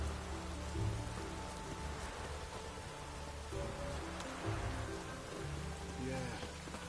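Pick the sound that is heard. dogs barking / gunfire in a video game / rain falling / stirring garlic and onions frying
rain falling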